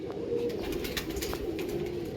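Young Lambadi pigeons keep up a soft, steady low cooing close by, a continuous murmuring hum with no talking.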